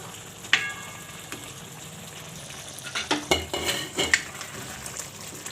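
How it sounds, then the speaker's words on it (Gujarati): A spoon stirs chopped coriander into a chickpea-flour gundi curry in a pan on the stove, with soft sizzling underneath and a run of scraping, clinking strokes against the metal pan toward the end, close by and with no voices. "તો હવે આપણે આમાં ધાણા નાખી દેવું. મિક્સ કરી લેવું."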